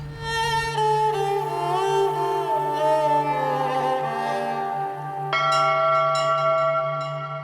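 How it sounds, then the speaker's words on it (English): Several bells ring out with long resonant tones and overlapping harmonics, a fresh loud strike entering partway through over a sustained low hum. "Bells rang through mystical heavens"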